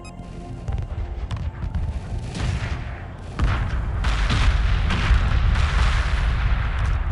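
Space battle explosions and weapon fire in the strategy video game Homeworld, a dense, continuous barrage of booms and blasts that grows heavier and louder partway through, with no talking.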